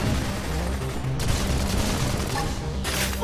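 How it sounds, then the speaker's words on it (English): A burst grenade goes off in Xenoblade Chronicles X combat, making a loud, dense rumble of blasts and crackling bursts. It sounds like continuous gunfire with no break, and a bright flare comes near the end. "Burst grenade!"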